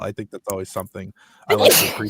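A single sharp sneeze bursts out near the end of a short stretch of speech, loud and close.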